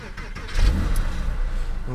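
A Porsche 996 Carrera 4S flat-six engine cranks and fires up, a low rumbling swell rising about halfway through and settling into an idle, with people talking over it.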